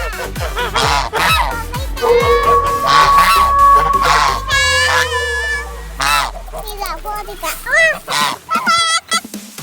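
Duck-like honking and quacking calls come in loud, nasal bursts, some drawn out and some clipped, with a rapid cluster of shorter honks toward the end.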